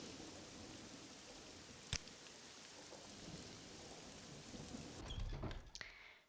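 Steady rain hisses through the whole stretch in the game Morrowind, broken by a sharp thunder crack early on and a deeper rumble of thunder near the end.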